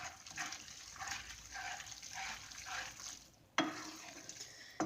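A spoon scrapes and stirs through a thick carbonara sauce in a pan, faintly sizzling, with rhythmic swishes and a sharper knock near the end.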